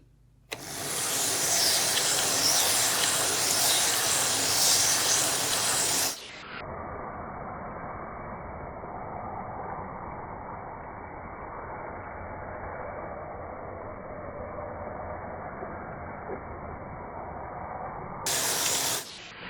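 A slow sphere machine at about 60 RPM grinds solid black basalt with 100 grit: a loud hissing, spraying rush for several seconds drops into a steady, softer grinding wash, then briefly swells again at the end.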